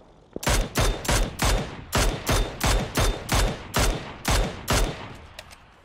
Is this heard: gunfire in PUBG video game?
yes